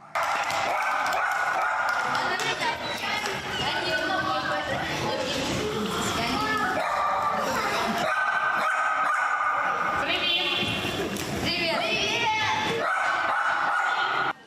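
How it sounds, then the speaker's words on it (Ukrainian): Rescue service bomb-detection dog at a mine-safety lesson for children, barks and yips heard amid continuous crowd chatter and voices, busy and fairly loud throughout. "поява найвідомішого українського чотирилапого рятувальника піротехніка пса"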